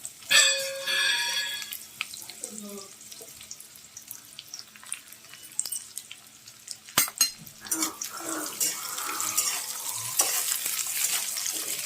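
Carrots and green beans for Hakka noodles stir-fry in a hot pan, with scattered clatters of a spatula and soft sizzling, intermittent and close, with no one talking.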